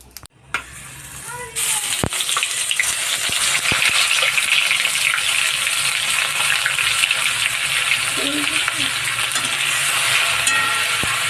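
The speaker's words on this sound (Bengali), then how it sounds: "জোরে যে কালো জিরেটা ফোড়ন দিয়ে দিলাম এবারে অন্যান্য মশলাগুলো একে একে দিতে থাকবো" Black cumin and spices crackle and sizzle in hot oil for a home-style singi fish curry, a dense hiss that flares up suddenly and holds loud and steady, broken by a few sharp ticks.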